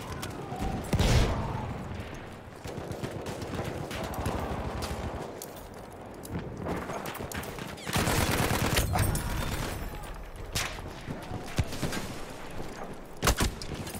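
Gunfire in Battlefield 1, a busy battlefield mix of scattered rifle shots and bursts with booming impacts, loud and near, several sharp cracks near the end, no talk over it.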